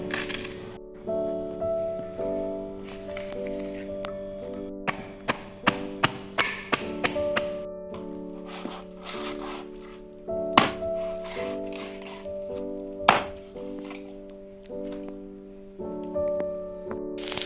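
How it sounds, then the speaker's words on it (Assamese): A knife chops curry leaves into small pieces on a board, a quick series of sharp taps in the middle, with scattered cuts before and after, over steady background music. "নৰসিংহ এনেকে সৰু সৰুকে কাটি ল'ব।"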